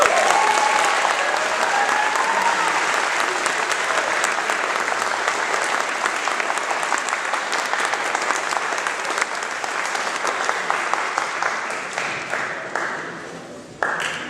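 A school concert audience gives the students a long, steady round of applause, dense and continuous throughout, thinning slightly just before the end.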